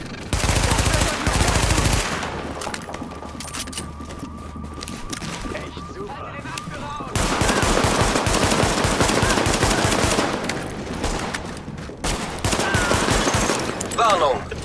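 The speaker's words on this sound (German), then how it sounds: "Schuss durch leichte Waffen! Unter Beschuss!" Sustained light-weapons gunfire in The Division: loud, rapid bursts and machine-gun rattles that keep going with short breaks. Game voices are heard over the shooting.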